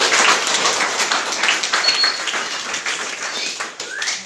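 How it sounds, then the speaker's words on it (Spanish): Students clap for classmates at the end of a secondary school classroom activity: dense, continuous applause from a group, close and fairly loud, holding steady for several seconds before thinning slightly. "quiero pedirles a todos los presentes un aplauso para sus compañeros"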